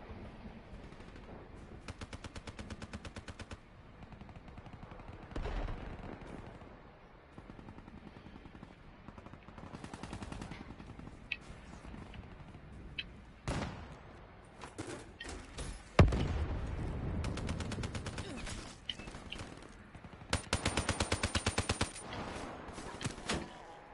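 Gunfire in a Black Ops match on PS4: bursts of automatic weapon fire come and go over about twenty-four seconds, some near and sharp, others quieter and more distant, with occasional heavier thuds.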